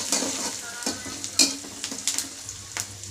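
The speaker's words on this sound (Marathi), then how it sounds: "हे जास्त करपती फोडणी" Mustard seeds and turmeric hit overheated oil, crackling and spitting in short bursts over a soft sizzle, with a few quick stirring scrapes close by.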